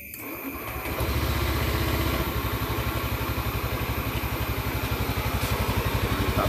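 A 2015 Honda Beat scooter fitted with a new battery cranks briefly, then its engine catches and settles into a steady, close, rhythmic idle putter.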